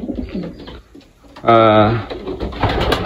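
Homing pigeons coo close by, one rolling, throaty coo standing out in the middle, with someone talking before and after it.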